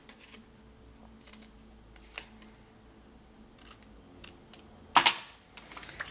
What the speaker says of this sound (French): Alors, on coupe les carrés.